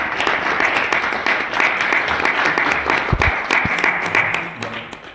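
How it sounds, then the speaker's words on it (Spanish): Sustained audience applause at a literary talk in Madrid, a steady dense patter of clapping from a room of listeners lasting throughout, fairly close and even in loudness. "Aquí está, señor, nuestro editor, a quien habría que darle un merecido aplauso."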